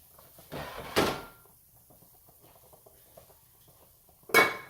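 A lid comes off a cooking pot with two clattering knocks, a metallic clank near the start and another at the end, over a quiet kitchen background with faint movement between.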